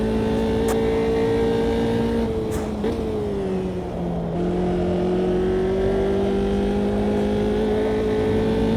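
A Formula 3 race car engine at Oulton Park in a racing simulator holds a steady, loud, buzzing drone throughout, with brief dips in pitch as the revs shift.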